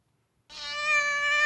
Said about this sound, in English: Annoying little cat noise.